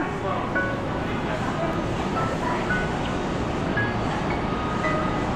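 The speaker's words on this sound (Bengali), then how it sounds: "পৌঁছলাম জামাইকা এটা লং আইল্যান্ড রেল রোডের স্টেশন" Inside the Long Island Rail Road station at Jamaica, New York, a constant loud rumbling roar of trains and station machinery fills the space without letting up.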